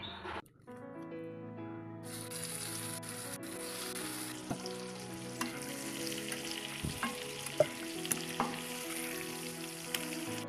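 Spicy masala-coated fish frying in oil, a steady close sizzle and crackle with scattered pops and stirring taps over a faint tonal background.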